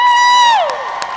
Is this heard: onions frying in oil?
no